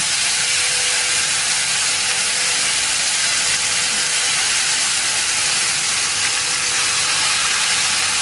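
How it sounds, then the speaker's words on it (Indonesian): Chili sambal sautéing in a pan after salted fish has been fried, a steady loud hissing sizzle filling the whole stretch without pause and with no voices. "setelah itu kita akan tumis sambalnya"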